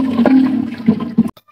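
Two to two and a half litres of water poured into a pressure cooker holding beef, garlic-ginger paste and salt for Hyderabadi yakhni pulao, a steady close gush of liquid that cuts off abruptly.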